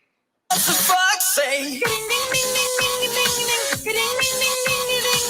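A full pop song plays loudly after a brief silence, with steady beat, bright instruments and a sung melody throughout.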